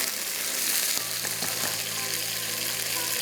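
Raw chicken pieces for orange chicken fry in hot oil while a spoon pushes them around, making a brisk continuous sizzle with soft scraping, close and unbroken.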